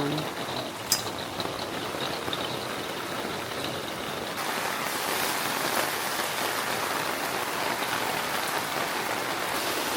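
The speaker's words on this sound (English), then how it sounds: "It was that Adirondack kind of rain, steady, stubborn, and loud." Steady, loud rain drums on a pop-up camper roof in the Adirondacks, a dense constant patter that swells slightly partway through, with a brief sharp knock near the start.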